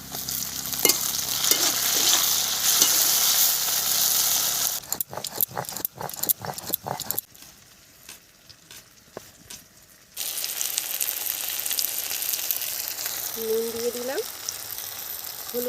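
Chopped tomatoes going into fried onions in a pan, a loud sizzle with clattering stirs, then a quieter stretch before the frying noise returns, with a short voice near the end.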